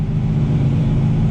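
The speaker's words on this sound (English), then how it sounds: "I got the exhaust valves open right now, so it might be a little loud in here" Supercharged C6 Corvette engine heard from inside the cabin with the exhaust valves open, a loud, steady low rumbling drone that holds evenly throughout with no talking.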